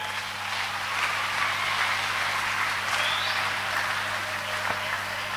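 A church congregation applauds steadily for several seconds, a dense even wash of clapping with a low hum underneath and no talk over it.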